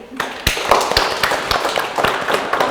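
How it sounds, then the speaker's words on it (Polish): Scattered applause from a modest audience at an exhibition opening, a few sharp claps and taps ringing out close by over a short stretch, with no speech. "ale brawa również dla niej"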